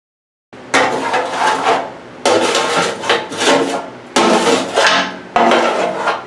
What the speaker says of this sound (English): Alright, start cutting these holes.